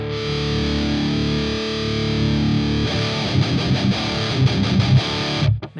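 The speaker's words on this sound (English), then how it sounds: "Man, it sounds like there's more gain on this B channel." A heavily distorted electric guitar through an Orange Dual Dark 50 amp plugin, high-gain B channel, rings out sustained chords, then switches to choppy, palm-muted riffing before cutting off.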